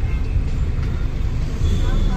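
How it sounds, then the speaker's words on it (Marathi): Heavy road traffic in Delhi, a dense, steady low rumble of cars and other vehicles with constant broadband roar, close and loud throughout with no clear pauses. "खूप ट्रॅफिक आहे दिल्लीमध्ये"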